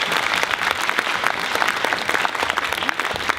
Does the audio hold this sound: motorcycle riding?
no